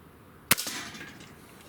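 Diana RWS 75 match air rifle firing with a hair trigger: one sharp, loud crack followed by a brief fading ring, alone with no talk.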